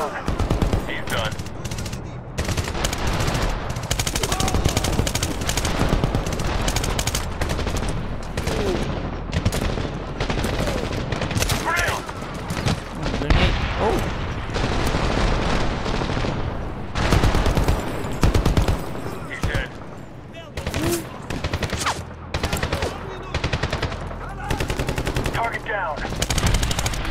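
Gunfire from the Medal of Honor 2010 video game crackles in dense, rapid automatic bursts and single shots, loud and continuous, with soldiers' voices shouting under the battle noise.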